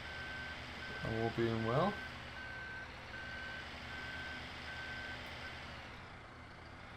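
In the Farming Simulator video game, a telehandler's reversing beeper repeats in a steady, evenly spaced pattern over a low engine hum, while someone talks briefly early on.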